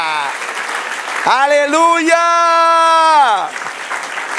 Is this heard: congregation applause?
yes